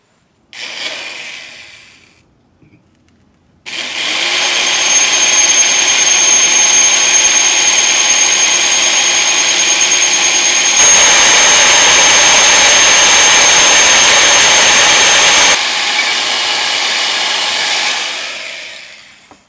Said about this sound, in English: I'm using a bit specifically designed for ceramic and brick, so it will cut right through this vase without chipping it or cracking it